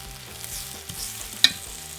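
Roasted garlic being mashed into a paste in a pan with sautéed mushrooms, for a roasted garlic and rosemary chicken dish. Soft, low frying sizzle with quiet stirring scrapes and one sharp utensil clink near the end.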